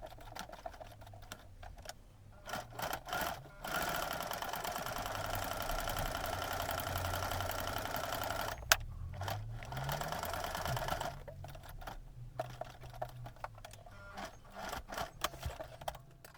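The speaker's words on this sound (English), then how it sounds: "I'm sewing about 1/2 centimetre from the outside, so that I know that then I'm catching the 1 centimetre seam allowance" Sewing machine stitching a fabric seam about half a centimetre in from the edge while making a basket, running in several bursts of steady mechanical whirring, loudest through the middle stretch, with short pauses between runs.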